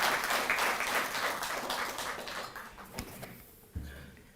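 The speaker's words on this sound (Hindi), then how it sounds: "एक बार जोरदार तालियों से आप सब" A crowd at a Delhi government ceremony honouring Tokyo Olympics athletes applauds with dense clapping that gradually fades out, followed by a couple of thumps as it dies away.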